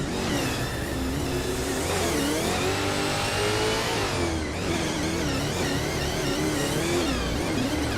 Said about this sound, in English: Jared Plays is racing a 27 Holden Commodore VE